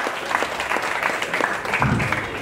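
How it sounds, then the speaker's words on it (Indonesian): An audience at a stand-up comedy anniversary show claps steadily, a dense, close patter of many hands that holds at an even level throughout. "mari kita kasih tepuk tangan yang meriah untuk teman saya"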